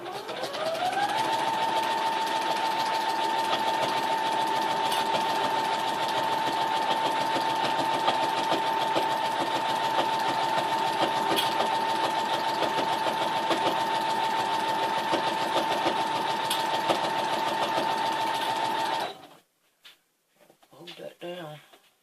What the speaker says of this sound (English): And we're going to start sewing it down.